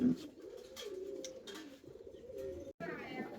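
Two Blue Shallow pigeons coo softly and close by in repeated low, rolling phrases, with a faint voice in the background.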